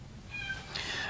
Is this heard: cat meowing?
yes